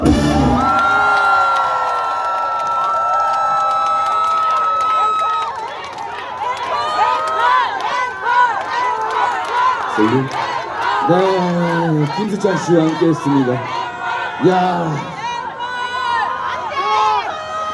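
Concert crowd at an outdoor food culture fair at Incheon's Munhak Stadium cheering and shouting for an encore, a sustained roar of many voices after music fades, with an amplified host talking over it.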